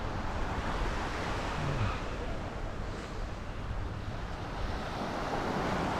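Atlantic Ocean waves breaking on a beach make a steady, broad roar of surf mixed with gusting wind buffeting the microphone, continuous and fairly loud throughout with no voices.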